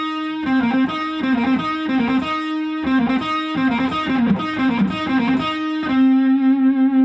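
Distorted electric guitar plays a bluesy lick of picked notes with a bent note, ending on a sustained ringing tone, loud and close.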